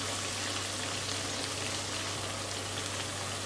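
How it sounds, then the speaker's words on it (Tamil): Chilli powder and salt sautéing in a pan for lemon pickle, a steady, even sizzle and crackle that holds constant throughout with no pauses. "கொஞ்சம் நல்லா அப்படியே வதங்கட்டும் அந்த சில்லி பவுடர் இதெல்லாம் சேர்ந்து"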